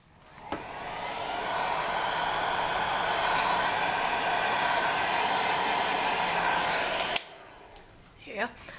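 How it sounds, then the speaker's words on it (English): A heat gun on high heat and low airflow blowing over resin in a pendant bezel, a loud steady whooshing roar for about seven seconds, then it cuts off followed by a few small clicks and rustles. "Pop your heat gun on your hottest setting and lowest wind speed."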